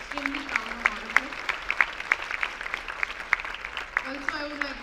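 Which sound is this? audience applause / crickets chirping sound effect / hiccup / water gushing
audience applause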